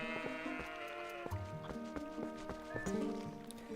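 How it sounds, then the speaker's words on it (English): Goats in the video game Twilight Princess bleat in quick overlapping calls over clopping hoof taps and a sustained musical backdrop, fairly quiet overall. "You can pet goats in this game."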